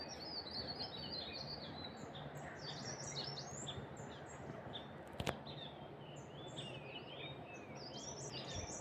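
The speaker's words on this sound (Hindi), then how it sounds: "देखो पक्षियों के चहचहाने की आवाज़ें कितनी अच्छी लगती है ना सवेरे सवेरे।" Several birds chirp and tweet steadily in the early-morning quiet of a village near a cowshed, with a low steady hum underneath and a brief sharp knock midway.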